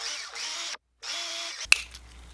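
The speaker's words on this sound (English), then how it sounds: "I think I'm going to drill a hole in this arm" A small power drill whirs in two short bursts while boring a hole in the arm of a handmade praying mantis fishing lure, followed by a sharp click as a tool slips.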